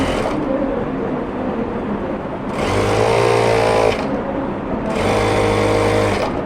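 A domestic sewing machine runs in two bursts of about a second and a half each while stitching a 1 cm seam on a pair of pant trousers. The whirring stitching is loud and close, with quieter pauses between the runs.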